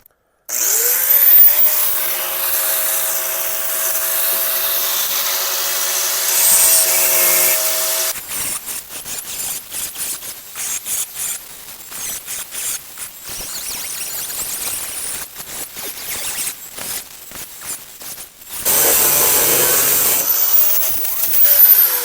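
A power tool cuts out a badly rotted floor pan on a 1971 Nova, running loud and steady with a whining tone before rough, chattering bursts of metal cutting and a final stretch of sustained grinding.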